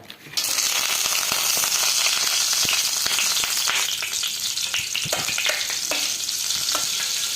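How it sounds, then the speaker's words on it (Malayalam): Butter melting in coconut oil in a pan sizzles loudly and steadily from the start, with scattered crackles and pops and faint scraping of a utensil, no voices. "പാത്രത്തിൽ കുറച്ച് എണ്ണ വെളിച്ചെണ്ണ ഒഴിച്ചിട്ട് കുറച്ച് ബട്ടർ ഇട്ട് കൊടുക്കുക"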